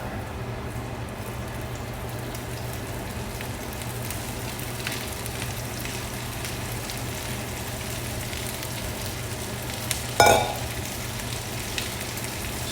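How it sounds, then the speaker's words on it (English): Brussels sprouts and onions frying in hot bacon grease, a steady crackling sizzle that holds evenly throughout, close by, with one brief clatter of a pan or utensil near the end. "I got my bacon and my grease nice and hot again, so I'm going to go ahead and throw my Brussels sprouts and my onions in there"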